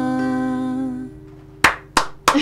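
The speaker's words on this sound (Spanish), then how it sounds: "Hay un solo aplaudidor en vivo, pero ahí viene el respaldo tecnológico." A lone audience member at a live folk music performance claps three sharp times, close and distinct, just after the sustained music tones fade out.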